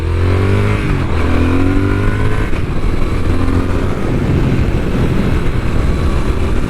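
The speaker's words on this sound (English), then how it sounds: "let's listen to this exhaust. This is now the standard exhaust." A Triumph Speed Twin motorcycle engine idles and revs through its stock exhaust, a loud, close, throaty rumble rising and falling in pitch.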